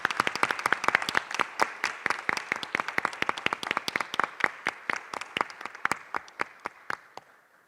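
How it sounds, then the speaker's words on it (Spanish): A debate audience claps after the results are read, many hands together in a dense burst that thins into scattered single claps and fades out. "Felicitaciones y aplausos, por favor"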